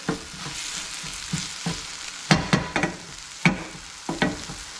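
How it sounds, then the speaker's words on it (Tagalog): Egg frying with alugbati (Malabar spinach) in a pan: a steady sizzle broken by irregular stirring scrapes and clacks, close and moderately loud. "Yung itlog lang niluluto ng konti."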